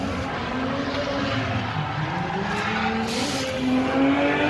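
A race car drifts at the Nürburgring during a drift cup, tires squealing steadily over a droning engine, heard from a moderate distance with a louder swell near the end.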